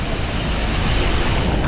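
A monsoon waterfall at Devkund pours with a loud, steady, broadband roar, close and continuous, with no pauses.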